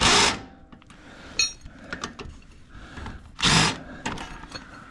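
Impact wrench bursts on the shock bolts of a 2021 GMC 3500 AT4 truck, two loud close whirring rattles, one at the start and one near the end, with clanks and tool handling noises in between.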